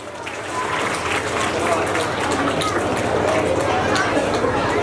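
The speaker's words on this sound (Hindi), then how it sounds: "जोरदार तालियां" Loud, steady applause from a school audience at an Independence Day celebration, cheering young UKG pupils; the dense clapping swells in after a brief start and holds with chatter and voices mixed in.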